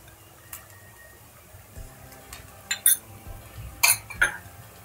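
A spoon clinks against a pan while chili powder is added for paneer butter masala, giving a few scattered metallic taps that grow louder and cluster toward the end, with no talking.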